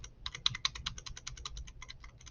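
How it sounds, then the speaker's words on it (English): Rapid close clicking of computer keyboard arrow keys, a quick irregular run of about twenty light taps, quiet and without speech. "Now I can use the arrows on my keyboard, just like Illustrator."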